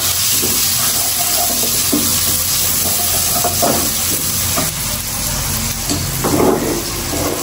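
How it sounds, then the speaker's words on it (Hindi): Spring onion greens sizzling in hot oil with cumin seeds, a steady loud frying hiss with occasional stirring scrapes and crackles throughout. "अब हम इसमें जल्दी से स्प्रिंग अनियंस की जो ऊपर वाली अनियंस होती हैं वो हम डालेंगे और इसको फ्राई करेंगे ज़ीरे के साथ।"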